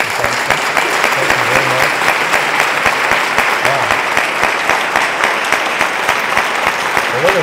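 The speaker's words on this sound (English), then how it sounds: "Let's give them a round of applause." Steady applause from a convocation audience at a university spring ceremony, dense continuous clapping throughout, with a speaker briefly talking over it.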